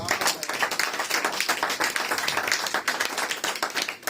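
A church congregation claps and applauds for Jesus Christ at an evangelistic service, with dense, steady applause from many hands filling the room, loud and sustained throughout.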